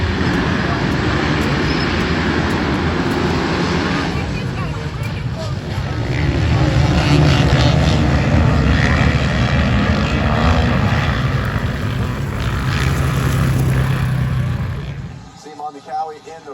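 450cc motocross motorcycle engines race in a championship event, a continuous loud droning roar that swells and fades from a distance, with a commentator talking over it throughout.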